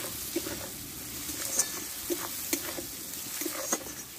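A spiced mixture with turmeric and salt sautéing in a pan for egg paratha, a steady soft sizzle broken by several sharp clicks of stirring, close and fairly quiet with no voices.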